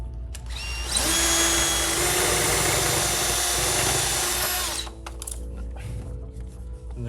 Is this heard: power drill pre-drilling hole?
yes